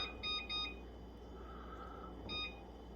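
Kitchen timer beeping while beef ribs and sweet potato grill, with short high electronic beeps in quick pairs near the start and again near the end over a low background hum.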